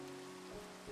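Rain falls in Minecraft as a faint, steady hiss of drops on surfaces, continuous and even across the brief moment.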